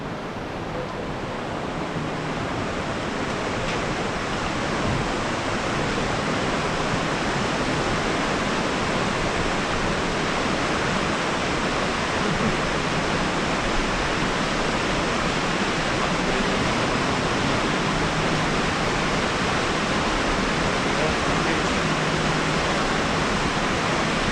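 Steady, loud rushing water in Johnston Canyon, Canada, fills the whole stretch, a constant broad roar without pause.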